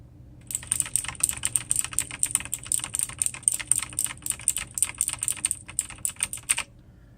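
Steady close-up typing on a TT Esports Poseidon Z TKL mechanical keyboard fitted with Kailh clicky switches, a dense run of sharp crisp clicks starting after a brief pause and continuing throughout.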